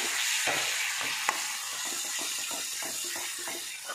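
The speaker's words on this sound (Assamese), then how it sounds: "এইখিনি দি পেলাই এতিয়া মই অকণমান দেৰি ভাজি ল'ম" Garlic and ginger fry in oil as the base for a simple mutton curry, a continuous close sizzle broken by a few stirring scrapes and clicks, with no voices.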